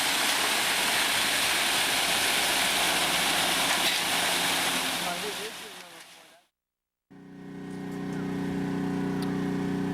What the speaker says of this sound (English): Truck number 4 back there in the background,